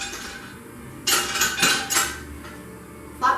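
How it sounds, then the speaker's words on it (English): A basic frying pan being handled in a kitchen, giving a few sharp metallic clinks and knocks in separate bursts, close and fairly loud against quiet room tone. "So we're going to take your basic frying pan."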